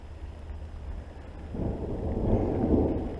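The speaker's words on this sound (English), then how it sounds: "Uh-oh, here comes the thunder." Thunder rolls in during a pike fishing trip outdoors, a low rumble that swells midway and lingers, fairly distant and without voices.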